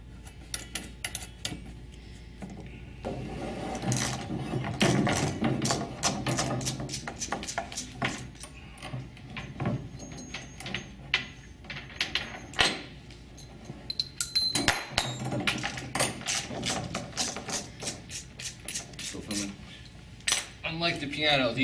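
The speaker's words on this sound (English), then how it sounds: "Unlike the piano, these bolts have to be totally removed." Metal bolts and hardware clinking and rattling as they are removed from a Steinway piano's shipping crate, with close, busy clanks and scrapes throughout.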